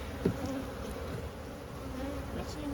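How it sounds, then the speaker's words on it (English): Honey bees pour out of a freshly opened hive, a dense steady buzz of many insects that stays close and constant throughout, with a small knock near the start. "you can see the bees boiling out of the hive as I opened it up"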